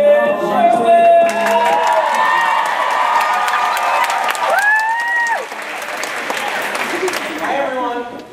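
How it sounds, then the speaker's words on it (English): Applause and cheering from a stage-show audience, with whoops and shouts over steady clapping, loud and sustained, while excited voices and high tonal calls ring out through the crowd noise. "Ladies and gentlemen, please give a warm round of applause for my friend, Christian Sherwin!"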